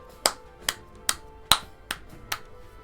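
Six sharp, dry finger snaps in a slow, uneven rhythm, each a crisp isolated crack against a quiet background with no talking.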